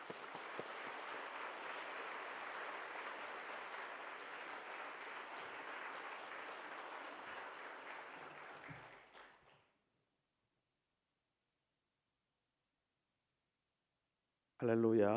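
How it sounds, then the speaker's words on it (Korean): A church congregation at a special dawn prayer service claps warmly to welcome the preacher; steady, dense applause runs about nine seconds, then fades into silence. "나오실 때 우리 뜨거운 박수로 환영하겠습니다."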